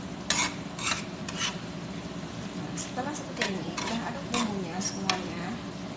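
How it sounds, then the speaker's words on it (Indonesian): A spice paste is stirred in a pan for bread filling, with scraping strokes and a faint sizzle running throughout, while a person talks over it. "Setelah seperti ini, udah aduk bumbunya semuanya."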